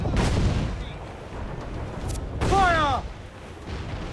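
Cannons fire in a video game battle, heavy booms and crackling blasts in quick succession, with a voice shouting commands between the shots.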